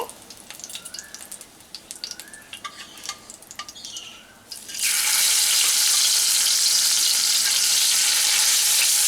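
Bata fish fry in hot oil in a pan, first with light scattered crackles and clinks, then a sudden loud, continuous sizzle that stays strong to the end.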